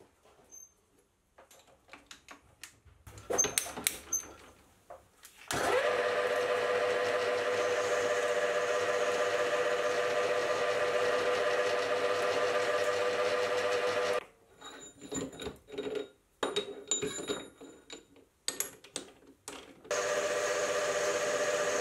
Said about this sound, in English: So the first thing I'll do is I'll get it in the lathe and cleaned up.